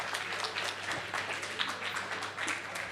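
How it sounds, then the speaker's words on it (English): Crowd applauding a student team at a school racing finals event, steady dense clapping filling the space at moderate distance, no talk over it. "And a big round of applause there"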